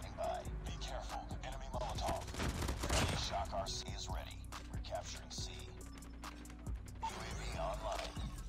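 QQ9 submachine gun in Call of Duty Mobile fires in rapid repeated bursts, loud and close, with mechanical clicks and brief pauses between strings of shots.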